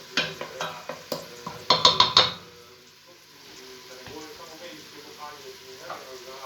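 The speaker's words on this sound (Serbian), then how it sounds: "Bitno je da vidite kako to krčka i kako to izgleda" Vegetables and Chinese pasta fry in a pan, a soft steady sizzle after a few sharp clinks and stirring knocks at the start, carrying on alone at low volume.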